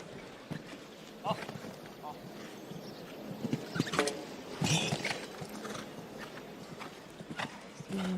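Horse hooves striding over a show jumping course at an international Nations Cup competition in La Baule, France, heard as scattered soft thuds and clip-clops amid open outdoor ambience, with commentary talk running over them.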